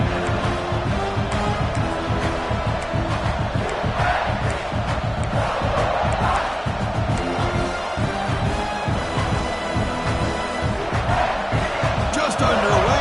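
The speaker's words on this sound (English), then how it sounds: "this home crowd is fired up and ready to make a difference today" A fired-up home crowd at a UCLA college football game roars loudly and continuously, with dense cheering, shouts and thumping stadium noise filling the whole stretch, voices of commentators mixed beneath.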